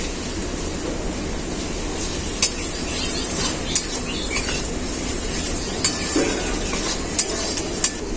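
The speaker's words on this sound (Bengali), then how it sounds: "আদাটাকেও আমি খুব ভালো করে ভেজে নিয়েছি" Ginger paste fries in a pan with a steady, close sizzle. Sharp clinks of a utensil scraping and stirring against the pan come at irregular intervals, and there is no talk.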